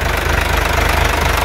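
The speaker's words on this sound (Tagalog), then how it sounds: "And this is the engine," Isuzu Forward dump truck with a 6HE1 diesel engine idling close up under an open cowl, a loud, steady rapid diesel knock with an even pulsing rhythm throughout.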